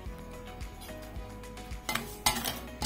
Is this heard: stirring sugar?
yes